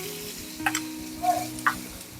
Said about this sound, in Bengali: টমেটো বাটা দিয়ে একটু নাড়াচাড়া দিয়ে নেব